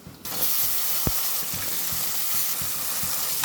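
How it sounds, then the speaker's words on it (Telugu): Cut brinjal pieces dropped into hot oil with turmeric, a sudden rise into a steady close sizzle with occasional spoon knocks and stirring scrapes. "ఇప్పుడు ముందుగా కట్ చేసుకున్న వంకాయలు వేసుకుందాం"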